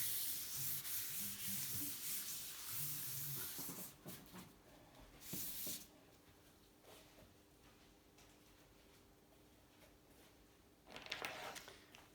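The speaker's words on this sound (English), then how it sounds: "and then I will file also the wall" A hand file rasps against metal on a vintage Atala gravel bike, several quiet scraping strokes in bursts with pauses between, close and faint, no talking.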